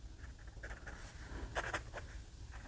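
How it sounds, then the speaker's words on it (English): A Moonman M600s fountain pen with a fine nib writes on paper, making faint, brief scratchy strokes in a quiet room. "M600s, and it has a fine nib"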